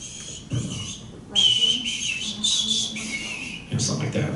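A person whistles an imitation of a white-crowned sparrow's song, a few clear, high whistled notes and trills in short phrases separated by pauses, close and fairly loud, with breathy noise between phrases.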